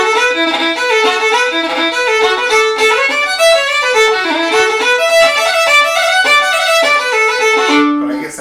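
A lively traditional tune played on a single melodic instrument, quick notes dense with crisp cut ornaments, steady and continuous throughout.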